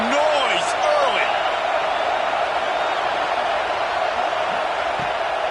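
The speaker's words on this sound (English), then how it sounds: "This crowd bringing the energy and noise early." Stadium crowd in a college football video game roars as a broad, steady wash of noise, loud and continuous, with brief whistle-like tones near the start.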